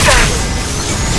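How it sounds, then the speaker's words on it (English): A flashbang grenade detonates in Mass Effect 2, a loud close crash-like burst that rings out briefly with a bright, ringing wash afterward, voices faintly mixed in. "Watch out, flashbang!"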